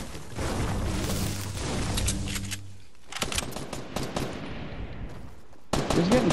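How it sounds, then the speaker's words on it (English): Gunfire in a Fortnite match, with bursts of rapid automatic shots and heavier booms rattling on for several seconds at moderate distance, then a pause before a further sharp burst near the end. "He's getting shot at."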